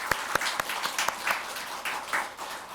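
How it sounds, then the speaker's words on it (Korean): A church congregation at a Sunday worship service breaks into applause, with a few sharp early claps building into a soft, steady patter that stays fairly quiet and distant. "우리 그 주님께 우리 감사 영광의 박수를 드리도록 할까요"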